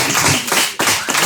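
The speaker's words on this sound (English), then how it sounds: "Please give a big round of applause for Taylor Garron." Audience applause welcoming comedian Taylor Garron to the stage at a live comedy show, several close, loud waves of clapping in quick succession.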